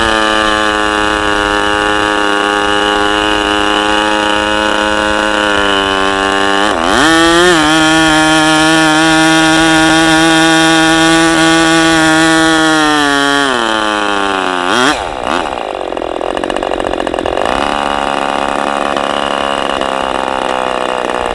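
A Fox 40 BBRC Deluxe ABC model airplane engine running on its first run, a loud, buzzing high-revving whine that holds steady, with pitch shifts as the throttle changes, close and without voices.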